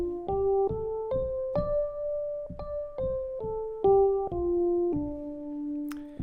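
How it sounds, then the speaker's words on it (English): A minor pentatonic scale, mode 5, runs note by note in about eleven clean, evenly spaced pitched tones, rising and then falling back, played alone with nothing else sounding. "And mode 5 is what we call the minor pentatonic scale"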